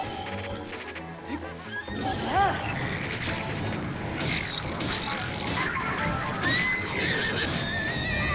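A horse in the Zelda Breath of the Wild video game whinnies loudly, its neigh rising and falling at close range, with clip-clop hooves and mechanical game effects mixed in.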